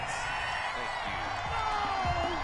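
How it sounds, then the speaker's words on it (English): Stadium crowd in a football video game reacting to a penalty call, a steady loud wash of booing and murmuring voices filling the whole stretch. "Well, the crowd doesn't like that."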